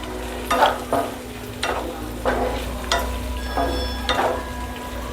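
Soaked paneer stirred in a frying pan, a low sizzle under a rhythmic series of spatula scrapes and knocks about every half second, close and fairly loud, over a steady hum.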